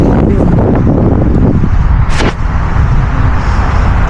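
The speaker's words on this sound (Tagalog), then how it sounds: "Mahangin!" Strong outdoor wind buffets the microphone with heavy low rumbling gusts, loud and constant throughout the few seconds, with faint voices beneath.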